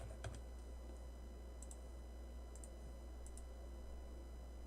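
Quiet keystrokes clatter on a computer keyboard in short scattered bursts, a few quick taps at a time, soft and close against a low steady background hum.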